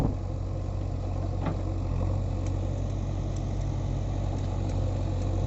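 A JCB 3DX backhoe loader's four-cylinder diesel engine, roughly 90 horsepower, runs at a steady idle, a continuous low throbbing hum with no changes in pace, heard alone.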